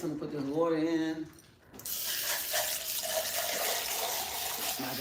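A kitchen tap runs to fill a glass, a steady rushing stream of water that starts abruptly and continues evenly, after a person has been talking.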